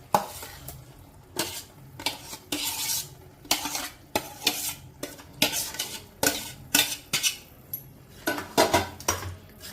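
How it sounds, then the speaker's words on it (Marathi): A spoon stirs pav bhaji vegetables with capsicum in a pan, scraping and clinking against the metal in a steady rhythm of repeated strokes, close and distinct over a faint sizzle, with no talking. "आता आपण याच्यामध्ये भाजी मिक्स करूया।"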